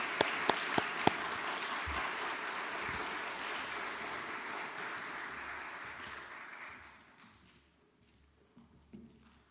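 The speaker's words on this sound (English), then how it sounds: "Please give a round of applause" Applause from a school chapel audience of students, parents and faculty, a few sharp nearby claps at the start, then broad steady clapping that fades out, leaving a quiet room with a couple of faint thumps.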